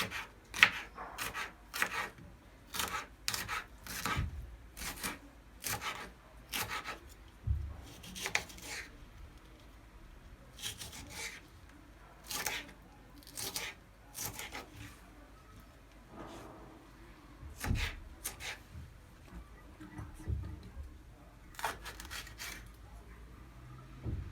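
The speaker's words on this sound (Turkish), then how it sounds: "Patateslerimizi bu şekilde doğruyoruz" Raw potatoes are sliced with a knife on a board for a homemade oven-tray kebab. The knife gives a quick, uneven series of crisp cuts and taps, some closer together, in a quiet kitchen.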